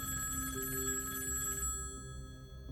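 A telephone rings unanswered, its electronic bell tone repeating steadily and fairly faint with no voices, then cutting off partway through.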